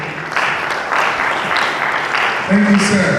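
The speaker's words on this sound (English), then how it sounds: "Please, a round of applause" Audience applause breaking out for the chairman at an artists' gala and award night, a broad steady wash of clapping lasting a few seconds, with a voice speaking briefly over it near the end.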